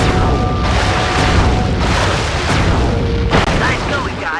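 A cannon firing aboard a pirate-ship level of Sly Cooper 3, with deep booming blasts amid loud game noise and voices talking over it.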